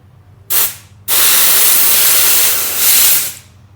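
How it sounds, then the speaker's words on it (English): Loud, close blasts of compressed air forced into a rusted, grease-dried walk-behind mower wheel: a short hissing burst, a brief gap, then a long steady roaring hiss of about two and a half seconds. "I'm gonna put some compressed air in there"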